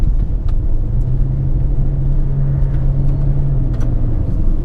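2019 Mitsubishi Eclipse Cross engine in simulated paddle-shift mode, a loud, steady cabin drone with a sustained engine tone that holds level for several seconds, then eases off, without talk.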